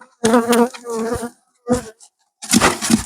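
Honeybees buzz close by on a hive frame in short, loud bursts, the droning sound cutting in and out with brief silent gaps between.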